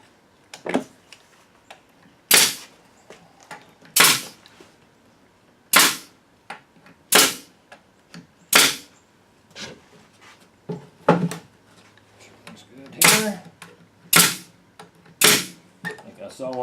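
A staple gun fires 1¼-inch staples into the sides of a wooden swarm trap, about a dozen sharp, loud snaps spaced roughly every second or two, with faint handling noise between shots.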